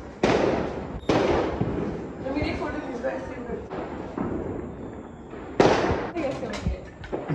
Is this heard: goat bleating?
no